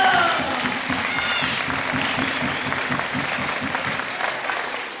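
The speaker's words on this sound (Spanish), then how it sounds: "Aplausos para la Caja Municipal." Loud, steady applause from an audience of parents and children at a parish Christmas hot-chocolate party, dense clapping that fills the whole stretch with crowd noise mixed in.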